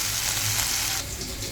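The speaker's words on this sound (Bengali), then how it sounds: "এখন আমি এই যে পুঁটি মাছটা ভাজা নিতেছি, সরিষার তেল দিয়ে দিচ্ছি।" Puti fish fry in mustard oil, giving a close, steady hissing sizzle that eases slightly partway through, with no talking.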